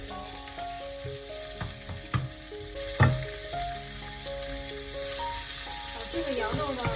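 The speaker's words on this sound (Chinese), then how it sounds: "洋葱香味出来了以后呢，我们就把这个羊肉下锅。" Lamb and onion fry in a pan for a Lunar New Year dinner, giving a steady loud sizzle with occasional utensil knocks and scrapes, while a person talks in the background.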